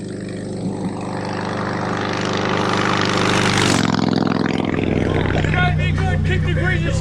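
Green Royal Enfield Classic 350 motorcycle with a chrome exhaust pipe, its engine running steadily and swelling in loudness as it revs, close and loud, with voices talking over it.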